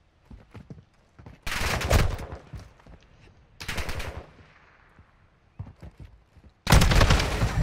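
Bursts of automatic gunfire from Modern Warfare 2 multiplayer, three loud sustained volleys separated by quieter gaps holding softer footsteps and distant shots.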